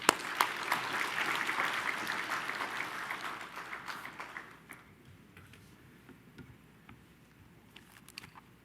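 A Korean church congregation at an early-morning Holy Week service claps to welcome a pastor. The applause is dense for about four seconds, then thins into scattered claps and quiet.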